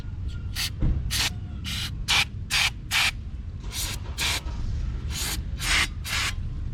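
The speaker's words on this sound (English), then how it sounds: "And what you want to do is you want to spray it" An aerosol can sprays in short, sharp hissing bursts, about a dozen in quick succession, close and loud over a low background rumble, during a car's rear brake replacement.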